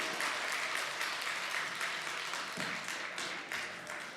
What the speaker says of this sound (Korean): 큰 박수 해주시면 감사하겠습니다.